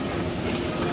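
A toy train sound effect plays on the Postman Pat Parcel Post ride in CBeebies Land at Alton Towers, a steady, loud rumbling clatter of rail-style noise that fills the whole moment without a break.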